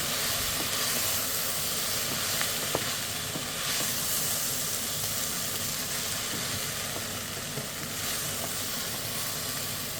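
Diced potato sizzles in a pot of tomato-and-lentil soup base, a continuous even hiss and gentle crackle with faint stirring scrapes, steady and close with no talk.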